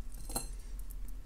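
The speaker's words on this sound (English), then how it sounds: "Snip off the excess," Snipping off excess jewelry wire while making an agate point pendant necklace, a small metallic clip followed by faint light clinks of wire and beads, close and quiet with no talk.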